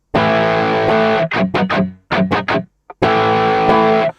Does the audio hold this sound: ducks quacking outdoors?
no